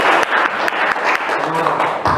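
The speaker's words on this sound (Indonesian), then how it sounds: "tepuk tangan" Dense applause from a classroom crowd fills the room, steady and close, with many hands clapping at once.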